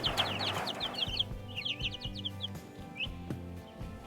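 Meat chickens cluck and chirp nearby, a busy mix of short calls and peeps over a low steady hum.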